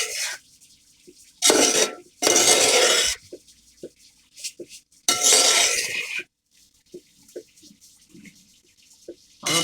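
Water mixed with pineapple essence is stirred into rice in a vessel, heard as separate bursts of splashing and scraping between quiet gaps, with small clinks of utensils.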